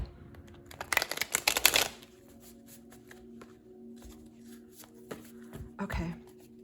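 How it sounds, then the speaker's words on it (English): A deck of tarot cards shuffled by hand in a dense burst of riffling flutters, followed by quieter card taps and handling against a faint steady hum. "Let me shuffle this one last time."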